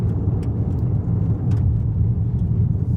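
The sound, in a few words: Chevy Cruze car driving on gravel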